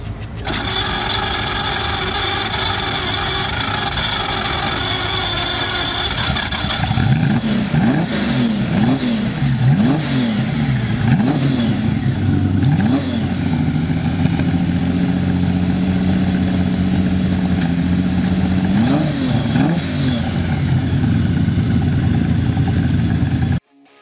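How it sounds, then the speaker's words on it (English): A Lamborghini Miura's mid-mounted V12 whines steadily, then fires up into a deep rumble with several sharp throttle blips before settling into a steady drone. "The Lamborghini Miura was powered by a mid-mounted V12 engine"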